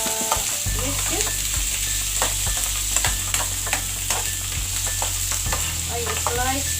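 Kuwaiti-made sausage is stirred and fried in a pan, Egyptian style. Loud, steady sizzling runs throughout, broken by frequent clicks and scrapes of the utensil against the pan, with no voices.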